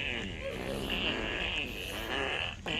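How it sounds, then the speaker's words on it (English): Cartoonish fart sound effects in the Roblox game Fart Attack, a dense buzzing, sputtering stream lasting a few seconds, loud and close, mixed with game noise. "I'm sick of these farting sounds"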